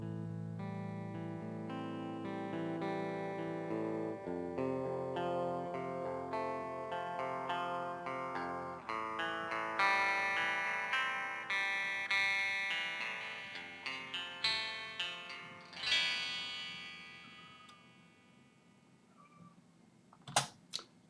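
A synth tone in REAPER with its filter swept by an envelope, starting dark and bass-heavy and gradually opening through the mids into bright highs, then fading with a few sharp clicks at the end; no talking.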